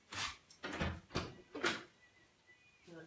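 An indoor door is opened in a home craft room, giving a few sharp knocks and rattling bumps in an uneven series, fairly close, followed by quieter handling noise.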